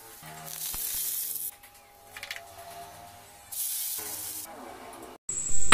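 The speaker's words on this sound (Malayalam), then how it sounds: "ഇനി ഇതും കൂടി ഒന്ന് നമുക്ക് ഫ്രൈ ചെയ്തെടുക്കണം." Beef fries in a pan in a home kitchen, giving loud bursts of hissing sizzle that rise and fade. Quieter gaps and faint clatter sit between the bursts.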